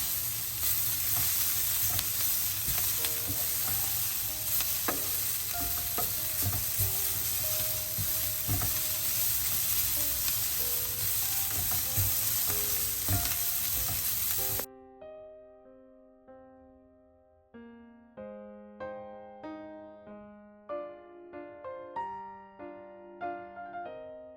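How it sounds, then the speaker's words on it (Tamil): Shredded cabbage stir-fry with roasted cumin and pepper powder sizzles loudly in a pan while being stirred, a steady frying hiss with scraping, then gentle instrumental music takes over alone. "சேர்த்துட்டு எல்லாத்தையும் நல்லா கலந்து விடுவேன்."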